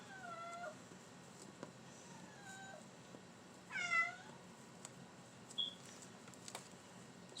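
A pet cat meows several times indoors, soft and fairly distant: short rising and falling calls spread across a quiet room, with one louder, longer meow in the middle and no talking.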